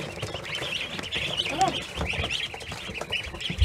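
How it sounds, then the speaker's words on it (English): Indian Runner ducklings peep and chirp continuously in a brooder while being moved, a busy high-pitched chorus up close with some handling noise and faint background voices. "I'm going to go ahead and just move these ducks into this brooder"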